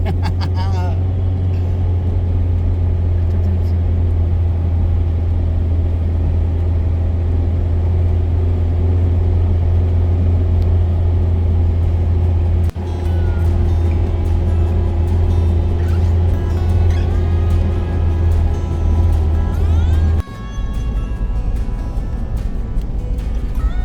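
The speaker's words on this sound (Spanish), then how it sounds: "Primera vez de la Toyo andando en la nieve." A Toyota drives off-road through snow, its engine holding a loud, steady low drone that shifts in pitch as it accelerates, with a few brief dips along the way and no clear talk over it.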